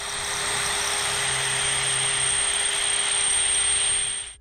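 A small power drill bores holes in a homemade fishing lure, producing a steady, loud high-pitched whine that runs unbroken for about four seconds, then cuts off.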